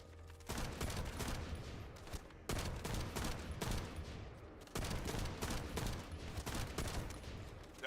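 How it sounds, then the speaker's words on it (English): Sustained gunfire in the video game The First Descendant comes in three long, dense bursts of rapid shots, loud and continuous, separated by short breaks, with no voices over it. "That stopped the gunfire."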